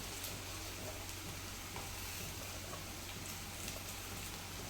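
Onion, finely chopped tomato and two green chillies fry in a pan, giving a steady, dense sizzle that stays even and close throughout, with no voices.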